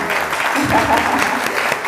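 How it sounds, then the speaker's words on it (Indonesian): A seminar audience applauds for close to two seconds in a steady, dense wash of clapping that stays even in loudness throughout. "Ini tepuk tangan khusus untuk saya ya."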